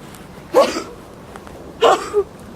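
Two short, sharp bursts about a second apart, each an abrupt explosive exhale like a sneeze, standing out against a quiet room.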